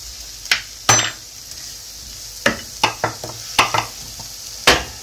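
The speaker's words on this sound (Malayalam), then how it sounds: "നന്നായി ഇളക്കിക്കൊടുക്കാം" A spoon stirs egg puff masala with pepper powder and garam masala in a pan, giving scattered scraping clinks against the metal over a faint sizzle, close and alone.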